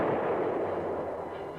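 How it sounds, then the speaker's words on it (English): Heavy tank gunfire in battle, with M60 Patton main battle tanks and enemy tanks and anti-tank guns firing, heard as a dense, loud, sustained booming rumble that fades slightly, with no talk. "the tanks meet heavy fire from enemy tanks"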